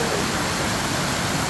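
Water from a burst pipe gushes across a road in Dharan, a loud, dense and unbroken roar of rushing water heard close up with no voices.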